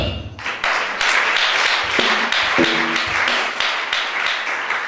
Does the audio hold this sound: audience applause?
yes